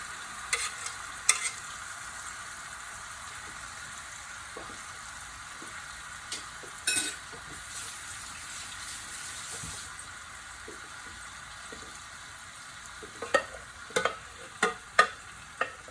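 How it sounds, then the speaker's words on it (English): A pot of biryani-style chicken is stirred over steady frying sizzle, with intermittent spoon scrapes and clacks that grow sharper and more frequent toward the end; no one speaks. "I'm going to stir this pot and come back in a couple of minutes again."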